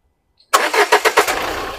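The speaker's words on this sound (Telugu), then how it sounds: "సింగిల్ సెల్ఫ్లో కార్ స్టార్ట్ అవుతుంది." A 2015 Renault Duster RXE engine starts on a single self-start: after a brief silence, a burst of rhythmic cranking pulses quickly catches and settles into a smooth, steady idle, recorded close up.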